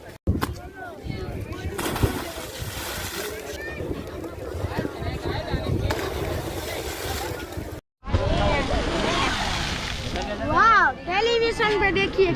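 A ferry crosses the water from Okha to Bet Dwarka, with a steady rumble of engine, wind buffeting and water washing close around the boat while voices talk and call out over it.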